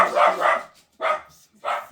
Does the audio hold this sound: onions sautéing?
no